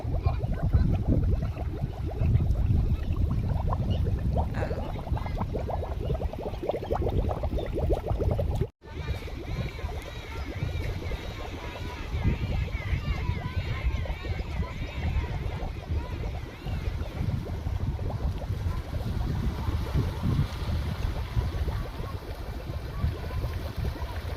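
Rainwater floods a village road and bubbles up as it flows across, a continuous, fairly close gurgling rush with a brief break partway through and almost no talking.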